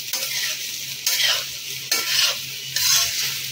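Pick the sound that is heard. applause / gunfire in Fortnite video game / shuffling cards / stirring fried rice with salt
stirring fried rice with salt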